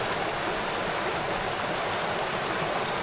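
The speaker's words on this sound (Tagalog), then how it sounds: "Yan ang ilog." Steady rushing of a river flowing on a farm, a continuous broadband wash of water with no breaks, fairly close and unaccompanied by voices.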